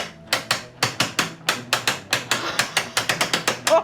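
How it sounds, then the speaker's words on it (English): A hand crank on a mobile painting studio rig hoists several pulleys at once, giving a loud, close run of sharp metallic ratchet clicks in a steady rhythm that quickens toward the end, with no talking. "So basically when I crank this, all the pulls should go up simultaneously."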